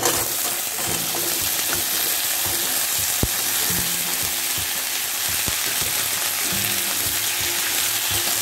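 Cut pumpkin and potato fry in a hot pan for a vegetarian fasting dish, giving a loud, continuous sizzle with scattered spatters and a few sharp clicks from stirring, no speech.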